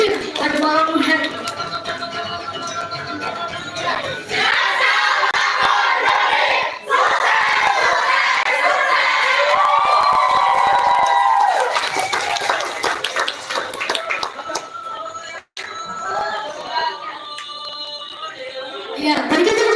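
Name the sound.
audience applause and cheering for the theatre actors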